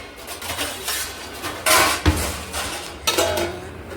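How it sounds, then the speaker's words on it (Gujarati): Metal clatter as a lid is set over a thali plate of Mahashivratri food, a few close bright clinks and one sharper knock within a few seconds, with no one speaking. "થાળી ઢાંકી દઉં માથે"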